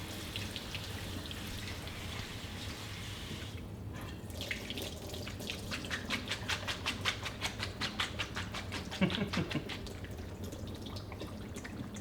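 Cold tap water runs steadily into a kitchen sink over cooked lasagna noodles being rinsed for a manicotti dish, a close continuous splashing stream that grows busier and more broken toward the end.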